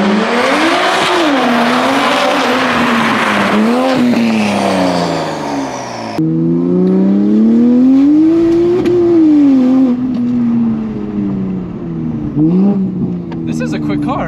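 A clutch-controlled automatic Toyota Supra MK5, freshly tuned, drifting with its engine revving up and down in loud rising and falling sweeps, joined by tire squeal, while people talk over it.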